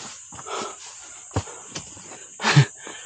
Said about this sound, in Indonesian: Baru juga jalan udah ngos-ngosan weh.